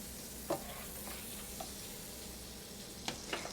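Butter melting on a hot Ninja Foodi griddle, spread around with a silicone spatula: a soft, faint steady hiss with a few light taps and scrapes, close by and without speech.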